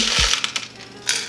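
Whole allspice berries dropped into a dry pan for toasting for homemade falernum liqueur, a quick hard rattle of small hard pieces landing, then a couple of lighter taps, close by.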